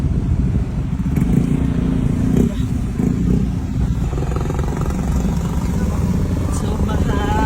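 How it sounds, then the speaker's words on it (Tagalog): Motorcycles ride through deep flood water after a typhoon, their engines droning steadily and close at moderate loudness with a few louder passes and sloshing wash throughout. "Nakakaawa mga mare yung mga motorista na dumadaan dito kasi nga sobrang taas ng tubig."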